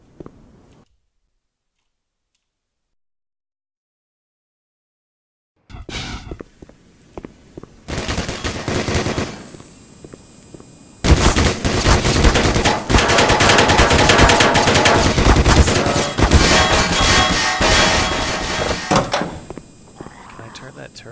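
An automated turret in the video game Black Mesa fires long, loud, continuous machine-gun bursts after a stretch of near silence, with a brief pause between volleys.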